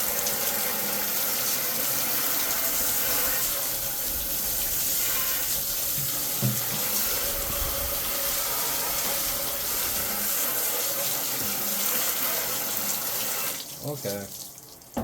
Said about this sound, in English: Now I'm going to rinse it again for another couple minutes.